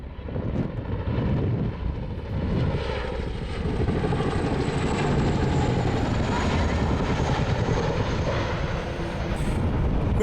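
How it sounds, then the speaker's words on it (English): A helicopter passes overhead above quiet Yorkshire Dales countryside by a river. Its rotor and engine drone stays broad and steady throughout, mixed with wind buffeting the microphone. "Well, we can hear helicopters."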